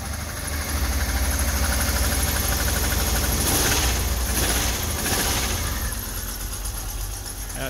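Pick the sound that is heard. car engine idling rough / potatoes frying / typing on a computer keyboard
car engine idling rough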